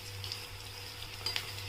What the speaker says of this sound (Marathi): छान तळून सगळ्या साईडने तळून घेऊया.